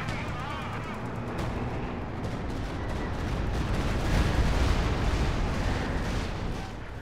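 Stuka dive bomber attack in a Company of Heroes 2 4v4 battle on the Lienne Forest map: dense, continuous rumbling explosions and gunfire, swelling louder midway and staying heavy throughout.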